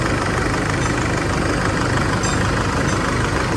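An Isuzu D-Max pickup's diesel engine idling after cylinder head work: a steady, close, even low rumble with no change in pace.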